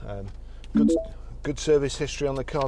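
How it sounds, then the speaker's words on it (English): A 2012 MINI Countryman Cooper SD's Bluetooth hands-free system gives a short electronic chime of a few quick tones as it pairs with a phone, followed by someone talking. "That noise was it just picking my phone up for the Bluetooth hands-free."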